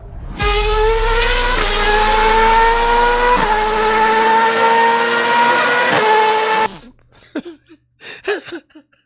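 A high-pitched Formula 1 car engine screams loudly and steadily, with brief dips as gears shift, then cuts off, leaving a few faint clicks and rattles.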